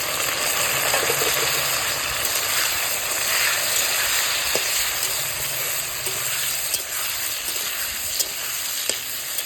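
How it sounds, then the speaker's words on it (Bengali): Tomatoes and green chillies frying with browned potatoes in oil, a loud continuous hissing sizzle up close with scattered small pops and utensil taps, no voices. "আলু ভাজা হয়ে গেছে, এবার দেখো টমেটো আর কাঁচা লঙ্কা দিয়ে দিলাম।"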